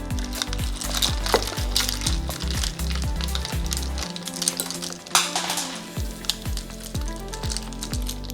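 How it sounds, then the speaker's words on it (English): A spoon stirs a mojito mocktail in a glass, giving a run of light clinks and swirls over steady background music. "And now I'm going to stir it."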